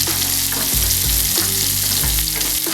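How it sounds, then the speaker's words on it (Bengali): Potatoes fry in a pan, giving a loud, continuous sizzle close up, while a utensil stirs them with repeated scraping strokes about every half second; no one speaks. "এভাবে নাড়তে নাড়তে প্রথমে আলুগুলো ছেড়ে দিলাম"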